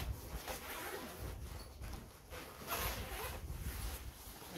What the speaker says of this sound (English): Find the zippers, find the zippers,